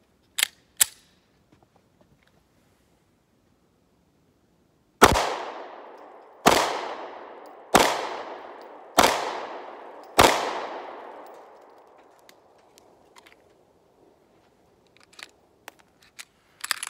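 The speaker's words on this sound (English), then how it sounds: "Come back to the Hellcat, 5 shots on the left" Five sharp gunshots from a Springfield Hellcat pistol crack out in an even, deliberate sequence about a second and a half apart, each with a decaying ring, preceded by two faint clicks and followed by small handling sounds.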